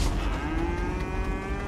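A cow moos in the Fortnite video game, a single sustained low, droning moo lasting throughout, loud and close with no speech over it.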